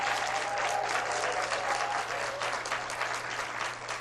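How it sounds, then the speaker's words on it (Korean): An audience at a church staff retreat applauds, steady clapping from a roomful of people holding for several seconds, close and fairly loud. "박수로 부탁합니다."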